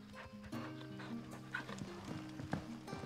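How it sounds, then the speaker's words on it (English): A dog in the Final Fantasy XVI video game barks several times in quick, uneven bursts, close and fairly loud, layered over a sustained droning in-game background. "Maybe if he wasn't barking, I'd give him a treat"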